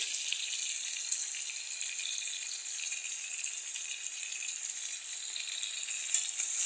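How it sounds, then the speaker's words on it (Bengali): Mutton sautés with masala in a pan as a steady, even sizzle close by, moderately quiet and continuous with no voices over it. "এখন এই মশলার সাথে এটাকে ভালো করে একটু কষিয়ে নেব।"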